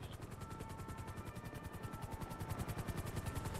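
Helicopter in a GTA role-play game, rotor chopping in a steady fast rhythmic thump that stays loud and close throughout with a faint high whine above.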